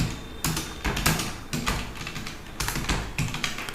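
Rapid clattering keystrokes on a computer keyboard as a bank name is typed into accounting software, close and fairly loud, in uneven bursts with short pauses.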